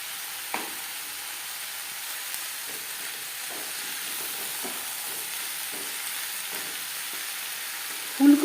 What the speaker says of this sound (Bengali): এভাবে একটু লবণ, হলুদ ও কাঁচা লঙ্কা বাটা সবজির সাথে মিক্স করে দেবো।